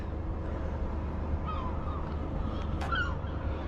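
A few harsh seagull calls cry out briefly over a steady low rumble of wind and drone engine noise, recorded from a drone flying beside a ship with lifeboats in Scotland.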